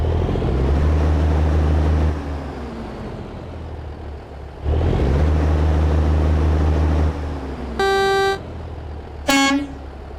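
An International 9900i truck in American Truck Simulator cranks and starts twice, its diesel engine settling into a loud, steady low idle each time, followed by two short, bright blasts of the horn.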